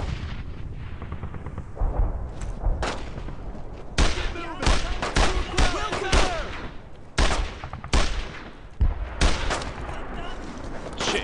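Heavy World War II gunfire in the video game Brothers in Arms, with repeated bursts of rifle and machine-gun shots and booming blasts in uneven clusters, loud and close, while soldiers shout over the battle.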